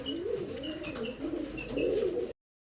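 A male Rekdar pigeon cooing, a close, low repeated warbling coo with faint chirps from other birds in the background.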